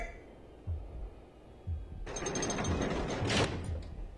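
Elevator machinery in the horror video game Evil Nun clanks twice with low mechanical knocks, then a grinding gear and ratchet rattle starts up and runs loudly to the end, with a sharp metallic screech near the close.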